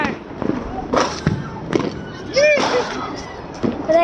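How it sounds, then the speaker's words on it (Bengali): Morich bomb firecrackers burst at a New Year celebration, a series of sharp pops and cracks scattered close by, with children's voices and chatter throughout. "মরিচ বোম চালাইছে মরিচ বোম"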